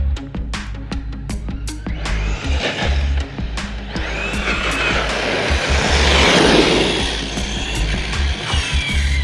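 A 6S-powered Shredder RC monster truck driving hard and popping wheelies, its electric motor whining loudly and steadily with revving surges and gravel crunch, close and continuous.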